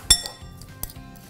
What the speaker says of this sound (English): and we'll just give it a little stir.